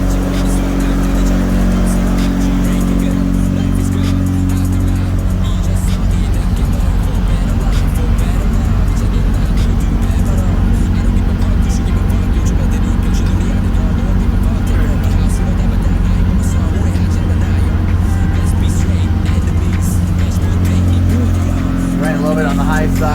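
A freshly installed Mitsubishi 4G63 engine runs at a slightly high idle, a loud, steady rumble close by with occasional shifts in pitch, while a person talks over it.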